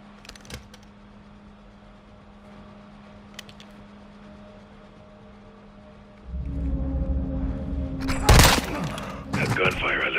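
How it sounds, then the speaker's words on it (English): Quiet ambience with a low hum in Call of Duty: Modern Warfare 2, then a sudden burst of loud gunfire near the end, sharp rapid shots over a rumbling engine-like background. "That gunfire alerted them."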